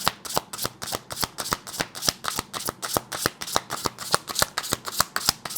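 Tarot cards being shuffled by hand, a quick regular run of crisp riffling slaps, close and distinct, with no talking.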